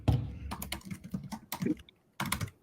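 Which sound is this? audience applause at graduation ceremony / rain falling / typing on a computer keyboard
typing on a computer keyboard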